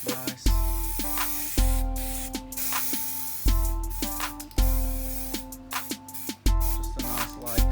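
Primer goes onto the roof of an Austin Metro under restoration as a light dust coat, each pass a close hissing spray burst, repeating roughly every one to two seconds.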